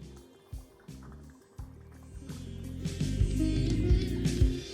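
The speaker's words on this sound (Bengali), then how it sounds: "300 গ্রাম গোবিন্দভোগ চাল, যেটাকে আমি একবারই ভালো করে একবার ধুয়ে নেব" Gobindobhog rice being washed by hand in a bowl of water, with sloshing, swirling and trickling sounds building in loudness, interrupted by a few sharp knocks against the container, close and unaccompanied by speech.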